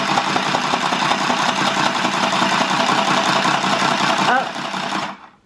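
A handheld sewing machine runs loud and steady for about four seconds with a dense mechanical whir, then slows and cuts out, with a voice speaking briefly near the end.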